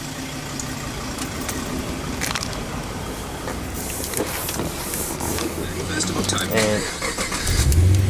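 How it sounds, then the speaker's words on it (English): A Holden car engine cranks and starts near the end, settling into a low idle after a stretch of quiet ambience, while someone talks over the start. "So I'll just bring you back and start the car up for you now."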